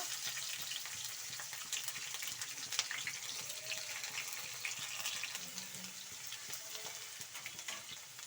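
Curry leaves, onion, garlic and ginger frying in a pan give a steady, faint sizzle and hiss throughout, with no talking.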